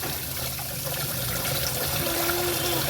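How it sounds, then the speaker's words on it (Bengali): Water pours steadily from an outdoor tap in a continuous, fairly loud splashing rush that holds even throughout, with no talk over it. "এই কলটা খুলতে তো শিখেছে বন্ধ করতে তো পারছে না"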